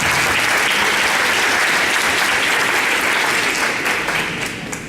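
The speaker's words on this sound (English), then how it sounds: "Hand of applause to you guys." Loud, dense audience applause at a conference session on the Brazilian way of doing AIESEC, steady and close throughout before tapering slightly at the end.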